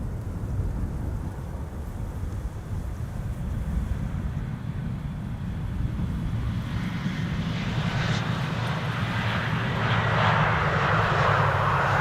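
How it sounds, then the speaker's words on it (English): A Saudia Boeing 787 Dreamliner arrives from Jeddah at Amsterdam Schiphol, its engine roar rising steadily from a low rumble to a louder, brighter whine as it draws near, with no talk. "Saudia Dreamliner arriving from Jeddah"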